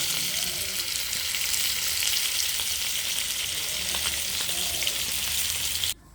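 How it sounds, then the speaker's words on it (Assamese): Pieces of fish frying in hot oil until reddish, giving a steady, loud, dense sizzle that holds evenly throughout and cuts off abruptly near the end, with no talking. "এইখিনি ৰঙাকৈ এতিয়া ভাজি ল'ম"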